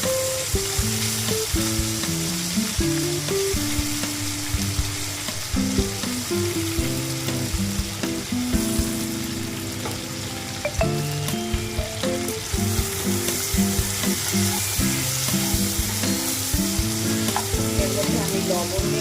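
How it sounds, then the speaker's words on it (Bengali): Chopped green tomatoes fry in oil with bay leaf, dried red chillies and black mustard seeds, a dense continuous sizzle with frequent spoon clicks and steady tonal background music. "এর মধ্যে আমি দিয়ে দিলাম কাঁচা টমেটোগুলো কেটে রাখা।"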